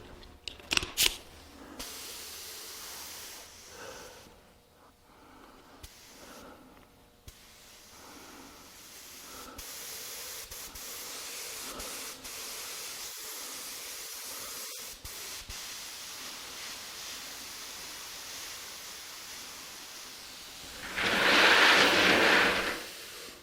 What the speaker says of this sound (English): Then I can tune my gun down a little bit, get a really fine mist.